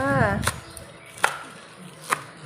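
A knife chops young noni leaves on a cutting board for a coconut-milk curry: three crisp, evenly spaced chops, close and fairly quiet. A short voice-like sound is heard at the start.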